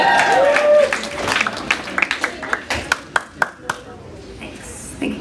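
A concert audience cheers and claps, starting as a loud swell of crowd noise and thinning into scattered individual claps, with talk mixed in.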